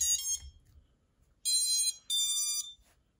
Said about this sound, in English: when you first build or buy one of these FPV drones, it has a built-in startup tune that sounds like this.